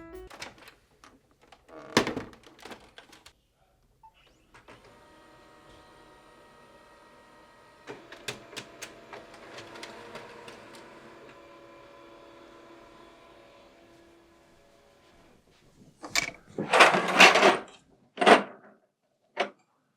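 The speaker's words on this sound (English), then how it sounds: "I'm just going to head over to my printer and scan and copy some of those parts" A home printer scans and copies paper parts for a Nerf Sten gun build, giving a steady mechanical whir with clicks and a scanning drone in the middle, framed by sharp clunks and feed-out bursts near the end.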